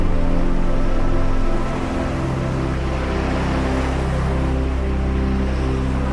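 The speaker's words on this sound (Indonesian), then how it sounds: "Hamparan pasirnya yang lembut berpadu dengan deburan ombak yang tenang" Calm ocean waves breaking on a soft sandy beach at Teluk Penyu, Cilacap, a steady loud wash of surf with a slight swell near the start and no voices.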